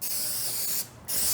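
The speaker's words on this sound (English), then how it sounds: "I'm going to spray these really good." A close cooking oil spray hisses almost continuously over chicken flautas, with one short pause near the end before it resumes.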